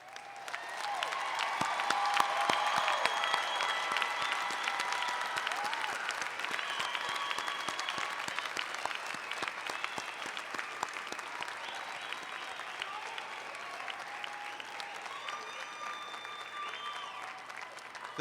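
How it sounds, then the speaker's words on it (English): An audience applauding graduates, including medical and master's degree students, at a university commencement; sustained, broad clapping from a large crowd that rises early and carries on steadily for a long stretch, with faint scattered cheers. "Will all of our graduates please stand for a round of applause?"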